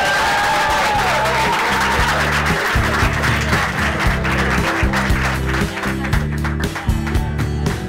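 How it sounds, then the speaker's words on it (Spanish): A school assembly at Colegio Mario Bertero Cevasco applauds a visiting guest. Steady crowd clapping runs the whole time over loud, rhythmic music with a thumping beat. "así que un fuerte aplauso"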